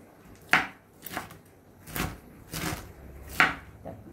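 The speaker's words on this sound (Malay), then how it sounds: "Kita cincang nanas macam ni, cincang halus." Pineapple being finely chopped with a knife on a board, a handful of separate crisp chops spaced irregularly, some sharper and louder than others, close up with no talking.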